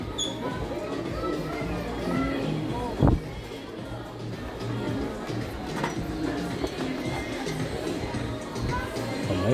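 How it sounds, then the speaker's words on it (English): Dense crowd chatter fills a busy Nike outlet store: a steady babble of many overlapping voices, with a brief louder knock or thump partway through. "Wow, this crowd is huge."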